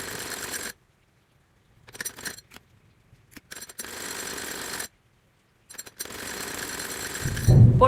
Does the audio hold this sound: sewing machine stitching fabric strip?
yes